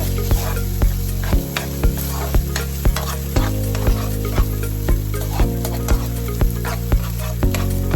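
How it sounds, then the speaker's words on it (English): Garlicky whole wheat linguine is stirred in sauce in a hot pan, with a regular scraping rhythm of roughly two strokes per second. Each stroke rises above a steady, close sizzle. "I'm just gonna stir this together so it's evenly distributed."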